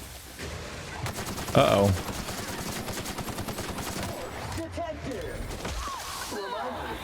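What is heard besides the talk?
gunfire from enemies in the video game The Outer Worlds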